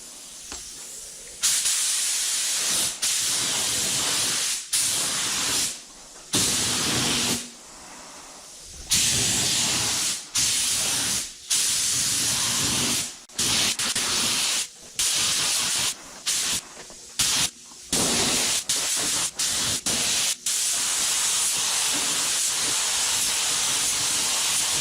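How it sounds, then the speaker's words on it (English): A paint spray gun hisses over a car fender in repeated passes, each a loud, steady airy spray broken by short pauses between strokes, close and continuous for most of the stretch. "So let's lay some paint."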